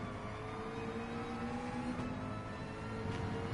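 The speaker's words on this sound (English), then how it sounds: "I do like the McLaren's in car. And it sounds so nice inside the car too." Steady in-car engine drone from a McLaren in a racing video game, a continuous mid-level hum with faint tonal whine, no talk over it.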